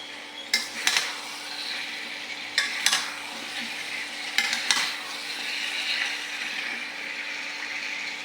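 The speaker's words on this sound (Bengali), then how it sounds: "কাঁকরোলটা ভালো করে কষিয়ে নেব।" Teasel gourd sautéed in spiced oil, a soft continuous sizzle with three bursts of metal spatula stirring and scraping against the pan, nearby and alone without speech.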